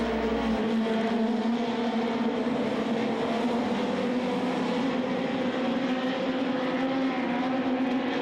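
Midget race cars from the Badger Midget Series roar through a heat race, engines droning loud and steady with a continuous, unbroken whine throughout.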